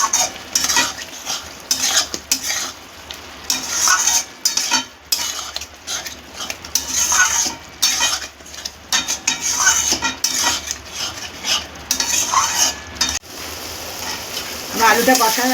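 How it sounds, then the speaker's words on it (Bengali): Fried potatoes are stir-fried in a pan with spices for a spicy Bengali-style chicken dum, with a spatula repeatedly scraping and clanking against the metal over a low sizzle, loud and close in uneven strokes. "ভাজা আলুটা দিয়ে আমি একটু কষতে থাকবো"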